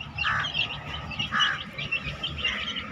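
Chicken chicks feeding in a roomy space chirp close by in quick, repeated bursts of high cheeping, with no one speaking.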